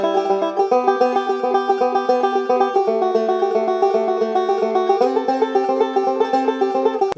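A banjo plays a steady rolling picking exercise on the first and third strings. The plucked notes come in an even, rapid stream, close and clear, over changing chord shapes, with no talking.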